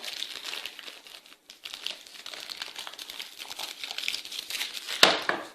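Steady crinkling and rustling of a plastic popcorn packet, close and continuous, with a brief sharper crackle near the end.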